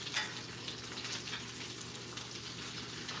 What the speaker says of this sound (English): this bacon's getting just about right. Woo! Popping and sizzling, it is.